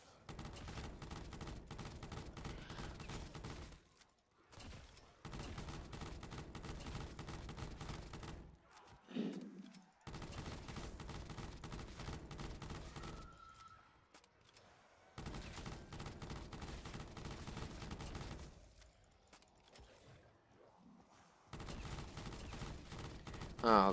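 Rapid video-game gunfire in long sustained bursts, loud and close, separated by brief pauses, with a few short gaps of near silence in between.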